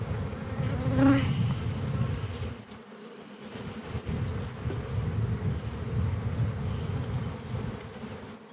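Honey bees buzz steadily around an open hive during an inspection, a dense, continuous drone close to the microphone. Light wind noise sits beneath the buzzing.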